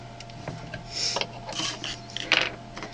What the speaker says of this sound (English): use a tiny screwdriver and unscrew those